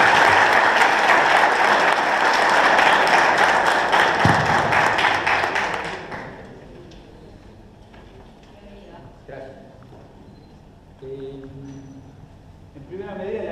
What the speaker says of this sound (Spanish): un fuerte aplauso por favor para el señor Horacio Testa